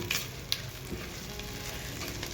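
Vegetables being stir-fried with crushed peanuts in a mixed bhogi bhaji, with a steady low sizzle, a couple of sharp utensil clicks near the start and soft scraping throughout.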